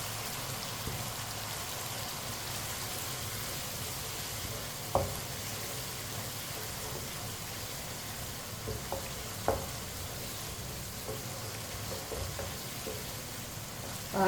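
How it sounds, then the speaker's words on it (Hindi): Potatoes fry in oil in a pan on a stove, a soft steady sizzle with occasional small pops and clicks. "ऑयल डाल के 2 मिनट के लिए पका ले रहे हैं"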